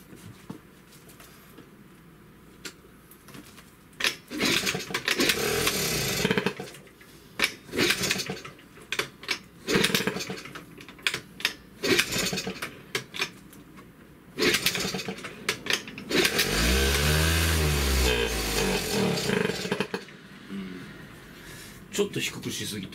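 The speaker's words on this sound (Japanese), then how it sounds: "高すぎるよね、アイドリング。" A 32-year-old Suzuki Hi scooter under restoration has its small engine idling high and being revved in uneven bursts, with a sustained rising and falling run near the end, while someone talks intermittently close by.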